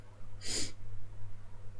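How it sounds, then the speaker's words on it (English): A single sharp sniffle, brief and close, over a low steady hum in an otherwise quiet room. "I'm sorry if I'm like sniffling"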